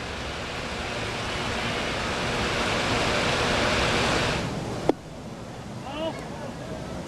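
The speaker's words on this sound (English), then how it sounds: "listen to the rhythm of the bubbling fountains." Ballpark fountains at a Rangers–Royals baseball game bubble in a dense, steady watery rush that cuts off abruptly with a click, leaving quieter crowd ambience and faint voices.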